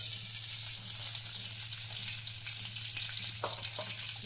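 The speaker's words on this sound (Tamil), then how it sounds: "சும்மா கொஞ்சம் வெந்தயம் போட்டுக்கிறேன்." Fenugreek seeds fry in hot oil as a tempering for banana-flower dumpling kuzhambu, giving a steady, soft, close sizzling hiss with a low hum underneath and no voices.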